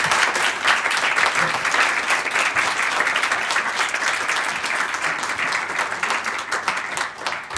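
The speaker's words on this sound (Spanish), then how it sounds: "y ahora va a ser vuestro turno después de un aplauso" An audience gives dense, sustained applause after speakers at a panel on climate crisis, pandemics and food systems, with steady clapping throughout and no one speaking.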